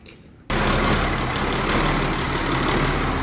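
A big farm tractor with a large exhaust starts up abruptly after a quiet moment, then settles into a loud, steady diesel idle with a deep rumble that continues unbroken.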